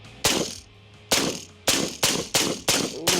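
A rifle fires .223 rounds into a Tesla Cybertruck, six sharp, loud, close shots with short gaps, each cracking and then ringing off briefly.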